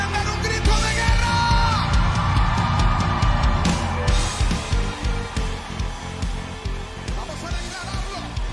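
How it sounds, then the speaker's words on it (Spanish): A church congregation at an online Sunday service shouts a loud, sustained war cry, with crowd yells and whoops layered over music throughout. "¿Cuántos pueden dar un grito de guerra?"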